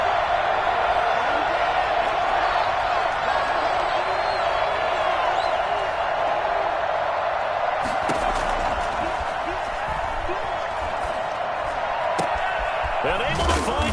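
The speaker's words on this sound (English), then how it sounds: "the crowd getting into it as we come up on a big 3rd down" A football stadium crowd roars and cheers ahead of a big third down, a loud, sustained crowd noise throughout, with scattered claps and thumps later on.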